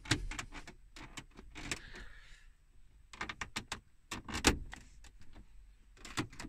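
Plastic interior trim push clips on a Vauxhall VXR snap into place, giving a string of short, sharp clicks and knocks in irregular bursts, close up with no talking.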